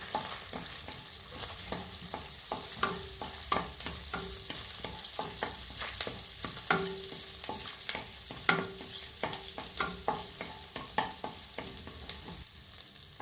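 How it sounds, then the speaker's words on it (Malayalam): Garlic frying in a pan for pasta with chicken sausages, a soft constant sizzle broken by repeated sharp clicks and scrapes of a spoon stirring against the pan, close and steady. "ആ വെളുത്തുള്ളി ഒന്ന് കുക്കായി വരട്ടെ."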